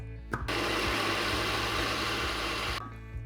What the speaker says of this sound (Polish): Całość będziemy blenderować do konsystencji mokrego piasku